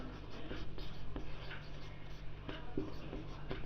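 Pen writing on paper while working a Class 6 maths problem, a steady close scratching with short strokes and taps continuing throughout over a low background hum.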